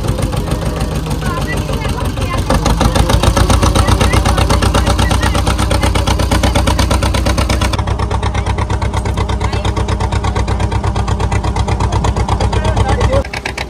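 Boat engine running steadily during a river crossing to a ghat near Mousuni Island, a loud continuous rhythmic chugging drone that stays close and constant throughout, with a slight shift in tone partway.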